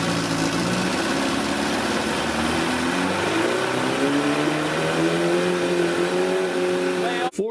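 An early Mercury Mark 55 outboard engine runs steadily in neutral at about 2500 RPM, a loud, continuous drone with a slight rise in pitch partway through, ending in a brief dip at the close.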